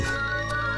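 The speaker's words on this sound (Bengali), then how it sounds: "তোর ফোন বাজছে।" A mobile phone rings indoors with a steady electronic tone, loud and sustained through the whole moment, with no voices over it.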